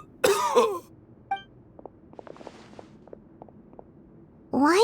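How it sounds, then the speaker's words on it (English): A male Genshin Impact game character coughs harshly twice up close, followed by soft footsteps and small shuffling, then another rough cough at the end. "Why is he coughing so much?"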